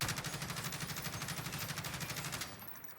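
A gun fitted with a bipod underbarrel fires a rapid automatic burst in the video game Warzone, steady and evenly spaced shots close and loud for over two seconds before cutting off.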